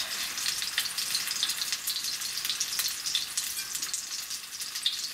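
Breaded, cheese-filled triangular meat patties fry in a pan, giving a steady, close hiss of sizzling oil with small crackles and no talk.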